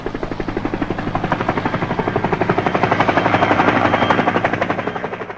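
A US military helicopter in a Vietnam War film, attacking over a flooded free fire zone, gives a loud, steady rhythmic rotor chop that swells slightly and then eases off, with no voices.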